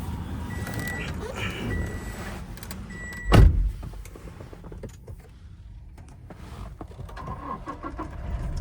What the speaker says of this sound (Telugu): కార్ అయితే స్టార్ట్ చేశాను